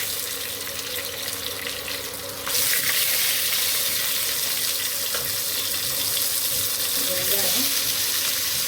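Green chillies fry in hot oil, giving a steady hissing sizzle that grows louder partway through and then holds, with a faint voice underneath.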